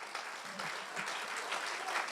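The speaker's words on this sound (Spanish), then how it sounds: "Sí, aplaude al Señor. Esto es para aplaudirle." A church congregation applauds during a Spanish-language service, steady dense clapping from many hands that carries on evenly throughout without a break.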